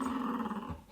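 Dogs give a low, rumbling growl that lasts under a second, close by and fairly quiet, with no talking over it.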